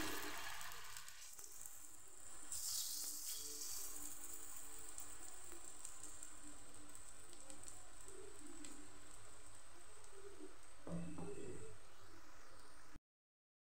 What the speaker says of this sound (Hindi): मेरा घी भी बिल्कुल ये देखिए गर्म हो रखी है तो इसमें मैं डालूँगी ये दाल जो मैं ग्राइंड की थी